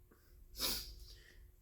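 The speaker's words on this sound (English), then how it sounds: "oh, I gotta sneeze" A single close sneeze with a brief breath before it, fairly quiet, followed by a soft sniff and breathing in a still room.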